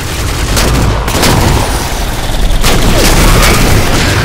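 Grenade explosions in Halo 4, loud booming blasts and gunfire in a dense, continuous battle roar with sharp bursts punching through.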